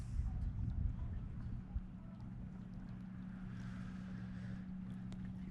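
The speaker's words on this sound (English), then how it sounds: "I've been running the engine." Low, steady rumble of a boat's diesel engine idling, with wind buffeting the microphone and a faint hint of voice early on.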